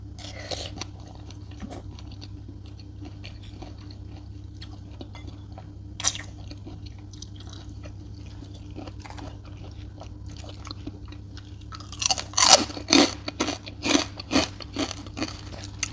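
Someone eats spicy Thai papaya salad with large oysters: a long stretch of near-quiet with a faint background hum gives way to a cluster of close, wet, crunchy chewing bites.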